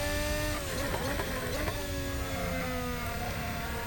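Race car engine in an F1 2022 car on a racing simulator, a steady loud harmonic drone with gear and rev shifts throughout, running alone without talk.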